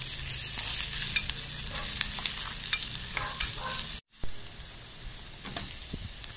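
Sliced red onions fry in a pan with a dense, even crackling sizzle and faint stirring scrapes. The sizzle cuts out for a moment partway, then carries on steadily with no voices.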